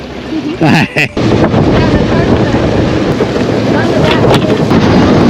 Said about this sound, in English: Nice boat ride.